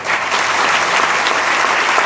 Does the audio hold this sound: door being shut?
no